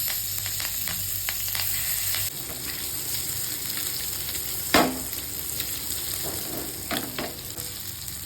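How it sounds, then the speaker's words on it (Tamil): Spiced fish frying on a tawa makes a constant loud hiss and crackle that eases slightly partway through, with a sharp metal tap and a few faint scrapes near the end and no voices. "இப்போ மீனை வந்து அதில் போட்டு பொரிச்சிக்கலாம்."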